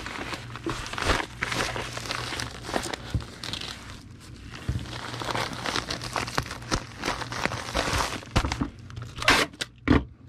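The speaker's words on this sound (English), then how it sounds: "And now I put it in a padded priority envelope." A comic book being slid into a padded priority envelope gives off a run of crinkling, rustling and scraping noises close by, with uneven bursts of handling and a sharper crackle near the end.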